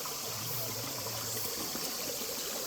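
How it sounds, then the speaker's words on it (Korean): Steady rushing water from a mountain valley stream fills the whole stretch, a constant broadband flow running over rocks, with no voices. "지금 나는 이 시간 여기서 계곡 물소리 들으면서"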